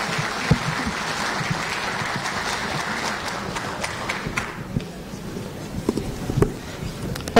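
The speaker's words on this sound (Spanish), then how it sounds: "Recibámosla con un fuerte aplauso." A conference audience at a private-education gathering in Spain gives a sustained round of applause for an incoming speaker, dense clapping filling the first four and a half seconds before thinning to scattered claps and room noise.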